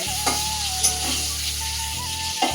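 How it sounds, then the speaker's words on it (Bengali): Potatoes lightly frying in a pan on a home stove give a steady, close sizzle with a few soft stirring clinks, and a faint constant hum sits underneath. "এদিকে আলুগুলো হালকা করে ভেজে নিচ্ছি"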